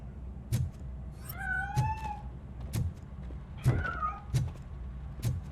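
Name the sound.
cat meowing, from the video game Robocop: Rogue City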